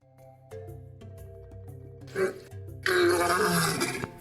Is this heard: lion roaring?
yes